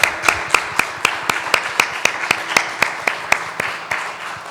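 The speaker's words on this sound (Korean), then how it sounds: "하나님께 영광의 박수 올려드리겠습니다" A church congregation clapping together during a Sunday service, a steady rhythmic clap repeating about every third of a second, close and even, with no talk over it.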